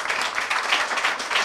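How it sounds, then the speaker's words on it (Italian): Boys clapping at an end-of-season party for an amateur football club, a short stretch of scattered, steady applause from a small group with no voices. "visto che fanno bene i ragazzi che applaudono"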